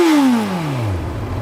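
A Honda CB1000R motorcycle engine, close by, spins up and then quickly falls off in a smooth, descending rev lasting just over a second.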